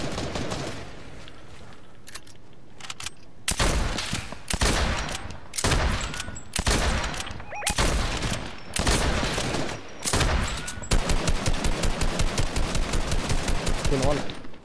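Fortnite gunfire with loud close bursts, first in separate volleys and then a long rapid automatic string, with no talk.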